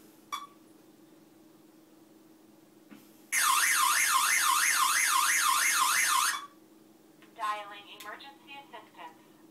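A ZOMM personal safety device alarm, piercing and rapidly warbling, blares for about three seconds, loud and close, followed by a person speaking.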